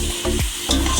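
Tomatoes frying in a pan for biryani, stirred in loud close scrapes over a steady sizzle, with no voices.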